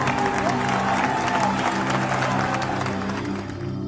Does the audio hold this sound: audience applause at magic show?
yes